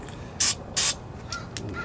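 A WD-40 aerosol can gives two short, loud hissing spray bursts in a row, each about a sixth of a second long, followed by a few fainter clicks and small sounds from handling the can.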